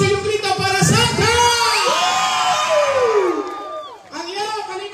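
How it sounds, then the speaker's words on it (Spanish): A crowd of kids and adults cheers and shouts loudly for Santa at a Christmas parade in La Libertad, El Salvador, with whoops rising and falling together, then a brief dip before the cheering resumes. "Fuerte el aplauso y un grito para Santa."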